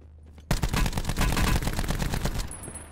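Call of Duty: Black Ops 4 Blackout gunfire on Alcatraz, a sudden burst of rapid automatic shots starting after a short quiet, rattling loud and close for a couple of seconds before tapering off.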